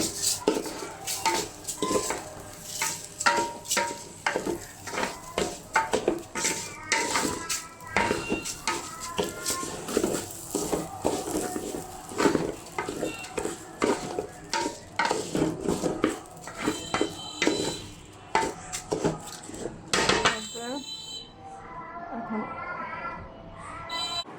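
Rice is stirred in a metal pot while biryani cooks, with a continuous run of spoon scrapes and clinks against the pot and a voice speaking over the stirring.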